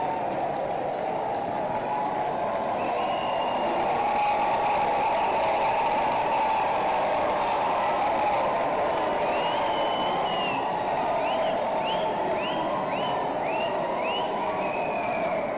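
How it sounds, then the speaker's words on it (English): Steady, dense applause from a large graduation ceremony audience honouring graduates at a university autumn ceremony, filling the hall continuously from start to end, with a few faint whistles or cheers rising above it near the end. "A round of applause for our graduates again."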